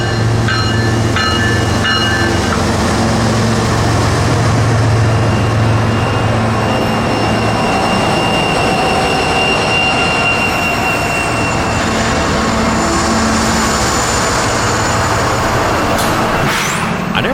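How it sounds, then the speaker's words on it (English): A loaded CSX coal train of hoppers rolls into Decatur Station in Alabama, a loud, continuous rumble of heavy wheels and cars with a droning engine hum, steady and close for the whole stretch. "This time it was a CSX loaded coal train."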